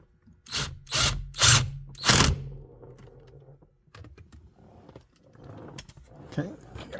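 A power tool drives 8mm bolts into the steering wheel of a 2005-2009 Ford Mustang S197 while the clockspring and airbag are reinstalled: three loud, close whirring bursts in quick succession, followed by quieter handling clatter.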